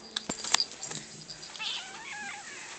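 A cat meows several times close by, short cries early, then a drawn-out wavering yowl.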